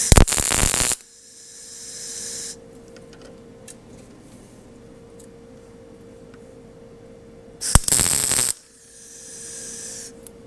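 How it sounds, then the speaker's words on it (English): An arc welder lays short tack welds on a golf cart frame, two loud crackling bursts roughly a second long separated by a long stretch of low electrical hum and faint ticking, with no one talking. "we're going to get the welder hooked up so we can get that tacked in there"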